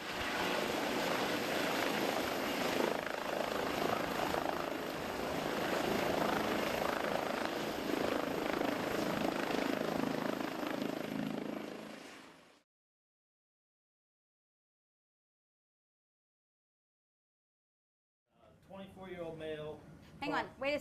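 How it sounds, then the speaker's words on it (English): A helicopter's steady rotor roar fills the first half, loud and continuous, then cuts out to silence before a voice begins speaking. "if you can send the helicopter."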